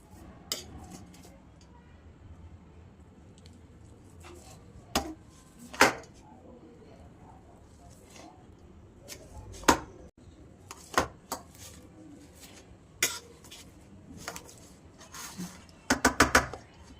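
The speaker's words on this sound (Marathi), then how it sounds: "हे आपण ह्या मॅशरने बारीक करून घेऊयात असे" Peanuts are pounded with a hand masher in a home kitchen, giving scattered knocks and clinks of metal against the bowl, with a cluster of sharper taps near the end over quiet room noise.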